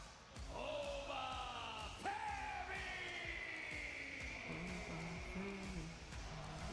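Wrestling crowd at a Florida SmackDown event, a steady roar of cheering with whoops and yells, under a bellowing ring announcer's voice as the wrestler's name is called.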